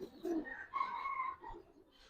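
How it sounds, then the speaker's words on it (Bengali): Pigeons of Silver and Jabra varieties coo softly nearby in a few short rolling phrases, with quiet pauses between them and no talk. "ডাইরেক্ট উড়ানো কবুতর"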